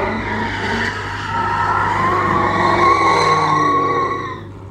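A Mustang drifting at a car meet with Hellcats and a Redeye around, tires squealing in a long, loud, continuous screech under engine roar that holds for about four seconds before easing off.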